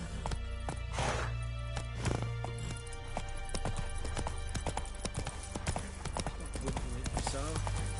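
The horse Roach galloping in The Witcher 3: rhythmic, close clip-clop hoofbeats at a running pace, with game effects and occasional speech around them.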